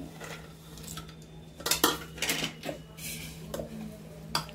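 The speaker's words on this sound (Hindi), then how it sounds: "ये हम इसमें डाल रहे हैं थोड़े से काजू और थोड़े से बादाम" Cashews and almonds go into a bowl for homemade shaami kebab, giving a few light clinks and rattles against the dish amid soft kitchen handling, close and moderately quiet, with no voices.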